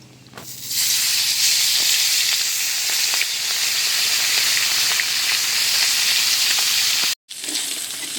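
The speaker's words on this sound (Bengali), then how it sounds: "মাছগুলো ভেজে নেব।" Fish fry in hot oil for a sweet-sour-spicy khoira fish dish, a loud, dense, continuous sizzle that swells up after a quiet start and cuts out briefly near the end.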